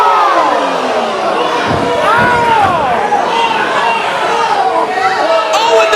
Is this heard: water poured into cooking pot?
no